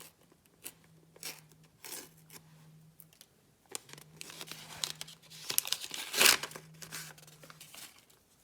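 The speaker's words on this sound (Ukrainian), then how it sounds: "Відкриваємо пакетик." Close crinkling and rustling of a small plastic packet of Wednesday-themed paper collectible inserts being torn open, with scattered crackles building to a louder rip near the end over a faint steady hum.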